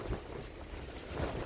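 Strong hurricane-force wind blows outdoors in Krasnodar Krai, a steady roaring rush with rumbling gusts buffeting the microphone, loud and continuous with no voices.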